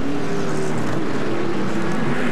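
Race cars at the Grand Prix de Trois-Rivières, a street circuit event, roar steadily nearby as engines drone and blend together for the whole stretch, with no talk heard.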